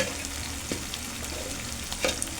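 Tomatoes frying in a pan, a steady close sizzle with a couple of brief stirring scrapes, even and moderately loud with no voices.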